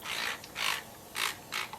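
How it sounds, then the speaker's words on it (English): A continuous flow spray bottle mists water onto a curly wig in four short hissing bursts with brief gaps between them, quiet and close. "I have this continuous flow spray bottle."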